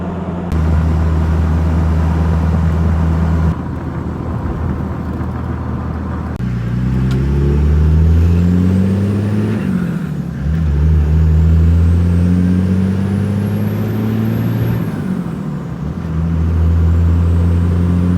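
Six-speed Cummins diesel pickup truck, a 1993 first-generation model, driving and revving through gear changes, its loud low engine drone rising in pitch with each acceleration and dropping between shifts, close and steady with no talking.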